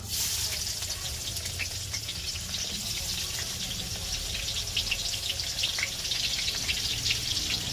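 Onions sizzling steadily in a pan over a homemade wood-fired stove, a continuous crackling hiss close by with occasional stirring and faint background sounds.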